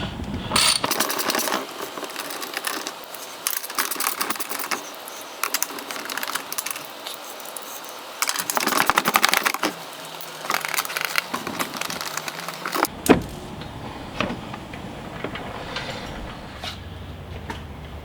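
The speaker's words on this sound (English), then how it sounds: "it takes a small 8mm socket or nut driver to remove these 3 bolts from this plastic panel" An 8mm nut driver backing bolts out of a plastic panel during a Jeep lift kit install, with bursts of ratcheting, clicking and plastic rattling, pauses between them, close up.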